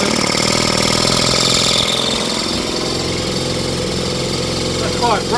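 Small whipper snipper motor driving a belt-and-pulley generator with two coils, a steady close mechanical drone running throughout with a faint higher whine.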